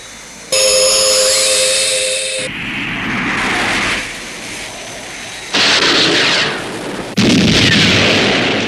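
Missile launch and detonation from a science-fiction TV series, a loud sustained roaring blast with a high whine at the start, followed by successive rumbling bursts and swells that cut in and out with no voices.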